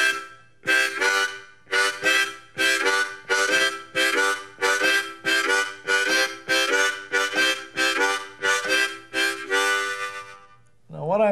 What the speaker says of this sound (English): let's start out real easy with what I call the simple chug.